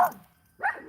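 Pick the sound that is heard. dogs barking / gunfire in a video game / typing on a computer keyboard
dogs barking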